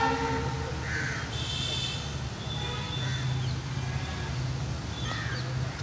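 A WDP-4B diesel locomotive in WDP-4 livery sounds its horn while hauling the Jodhpur Express, a steady droning tone that holds across the whole stretch over a busy, noisy railway background.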